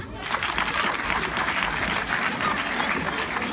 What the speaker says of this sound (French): Je veux que vous applaudissiez pour vous-même.